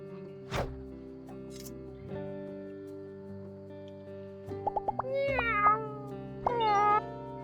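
A cat meows a few times in the My Time at Sandrock video game, short pitched calls heard over steady background game music with soft plops.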